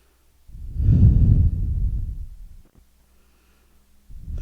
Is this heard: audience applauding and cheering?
no